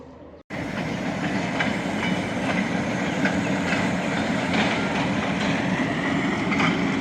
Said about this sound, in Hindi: बैक पे जो लोको शेड है वहाँ से GU40 की भी आवाज़ आ रही है